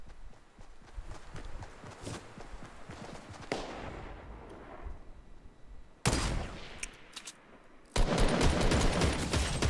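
Sniper gunfire rings out in the video game Fortnite, with sharp cracking shots and bursts amid clattering footsteps and game noise, loudest in the final seconds.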